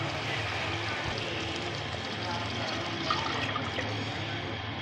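Water is poured into a pan of frying crushed coriander, cumin and spices while cooking a bottle-gourd kofta gravy, giving a steady loud hiss and sizzle throughout, close up.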